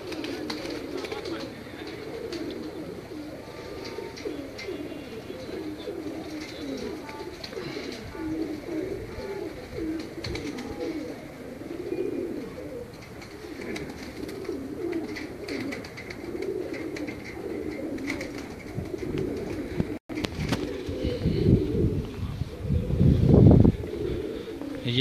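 Pigeons coo on a rooftop loft, soft repeated coos and occasional chirps layered under steady background noise, with people talking at times and a louder rustle near the end.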